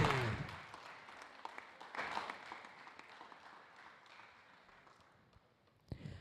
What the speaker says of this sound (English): A round of applause, please, for Kareem Zahor.